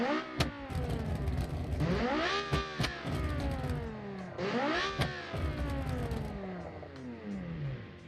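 A V10-engined race car in the Automation driving game revs hard through rising gear sweeps, dropping back on each upshift and climbing again, loud and steady with no voices.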